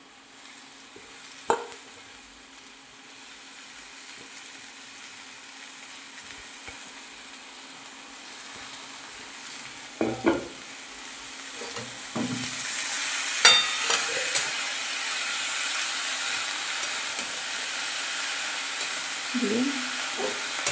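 Red greens stir-fry in a pan for a Bengali mixed-vegetable chorchori, a soft sizzle with occasional clanks and scrapes of stirring that swells louder in the second half.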